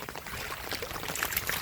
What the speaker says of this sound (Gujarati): જો તમે બધું ગટરમાં પાણી જઈ રહ્યું છે